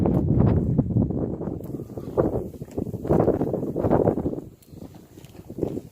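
Gusty wind pushes snow around outdoors on a cold January day, a loud, rough rumble that swells and eases in uneven waves.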